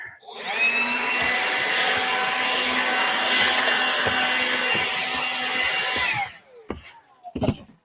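A loud blower clears crumbly debris off a chimney during demolition, a steady rushing roar at close range for about six seconds before cutting out, followed by a few sharp knocks.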